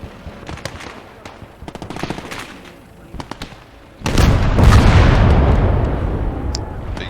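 Rocket artillery barrage in Gates of Hell: scattered distant pops and rapid gunfire crackle, then a loud sustained roaring rush of rockets and blasts erupts midway and rumbles on to the end.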